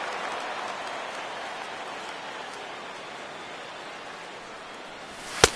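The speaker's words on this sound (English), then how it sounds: "Rain continues to fall here in the 6th." Rain falling during a baseball video game, a steady soft hiss of rainfall heard alone throughout, ending with a sharp brief click or crack at the very end.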